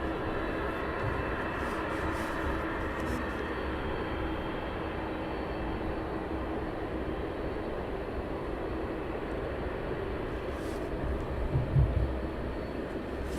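A jet on final approach at East Midlands Airport at night produces a steady, distant low roar that holds evenly, with a brief louder thump near the end.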